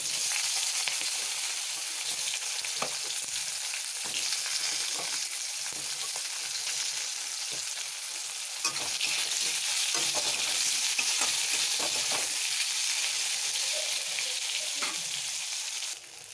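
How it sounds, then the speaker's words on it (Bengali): Eggplant slices fry in hot oil with a loud, steady, close sizzle and crackle that holds throughout, with occasional stirring scrapes and no talking. "এখন বেগুনগুলোও ভেজে নেব"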